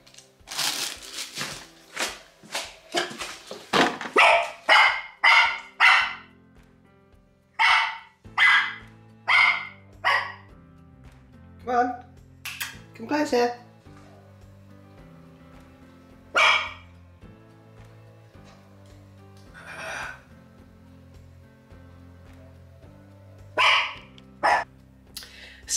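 A dog barks loudly and repeatedly at an automatic ball launcher, rapid at first, then in scattered bursts with pauses between them.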